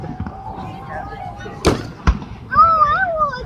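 Canada Day fireworks in Saskatoon burst overhead, two sharp loud bangs followed by whistling crackle, with people chattering excitedly around them.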